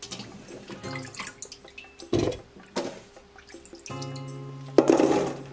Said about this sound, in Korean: 다시 물에 3번 깨끗이 헹궈서 물기를 빼줬다.